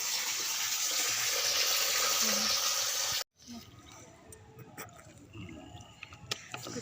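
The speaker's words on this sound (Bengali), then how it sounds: "এটাকে আগে ভালো করে ধুয়ে নিচ্ছি" Running water pours steadily for about three seconds while something is washed before cooking at an outdoor family picnic, then cuts off abruptly, leaving quieter clatter and faint voices nearby.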